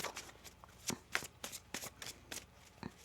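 A deck of tarot cards is shuffled up close in a quick series of crisp riffling bursts and soft slaps, fairly even in rhythm, with no voices.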